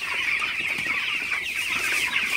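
Broiler chickens in a farm shed at night cluck and chatter continuously, a dense, even chorus of many birds close by with no voices over it.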